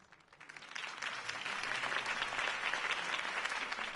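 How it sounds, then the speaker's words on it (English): Crowd applause in the Batman Telltale video game, rising from a thinner start into a dense, steady wash of clapping that holds for the rest of the stretch, with no voices over it. "could have heard that applause"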